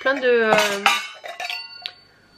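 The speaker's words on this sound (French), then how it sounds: "Et plein de petites casseroles. Vous voyez avec le couvercle et tout." Small toy saucepans with lids clink and clatter together in a few bright metallic knocks, close and fairly loud at first, then fading to lighter taps.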